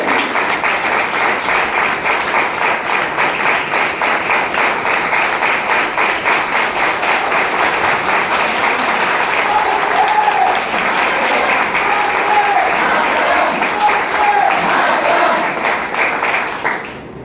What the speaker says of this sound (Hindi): धीरे बोलिए तो आपसे तालियां दीजिए